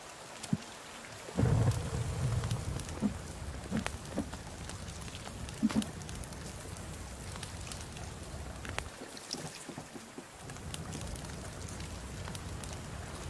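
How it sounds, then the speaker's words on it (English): Steady rain falls in a forest under trees, a broad continuous patter with a few sharper drips and knocks, and a brief quieter gap near the end; no one speaks. "It doesn't even look like it's raining, but it is"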